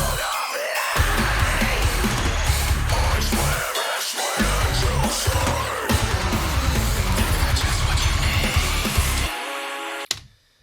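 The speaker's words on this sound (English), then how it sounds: "another cool sound off Massive. It's just a cheesy synth sound" A cheesy, horror-movie-style synth patch from the Massive soft synth plays in a metal song breakdown, dense and loud with heavy low-end hits, pausing briefly in short gaps and ending with a sharp cutoff.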